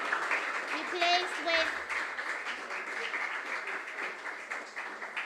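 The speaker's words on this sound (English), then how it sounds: "Round of applause." Applause from an audience at a regional junior science and maths quiz final, moderately loud and continuous, with a presenter's voice speaking over it.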